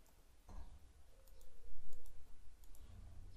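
Keyboard keys tapped a few times on a computer while working in Excel, quick light clicks spaced over a few seconds against a quiet room background.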